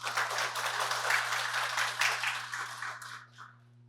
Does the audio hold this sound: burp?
no